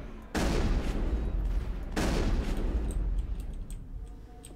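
Gunfire in Mass Effect, two heavy bursts of shooting that each start abruptly and trail off, loud and close, with faint clicks and effects after the second burst.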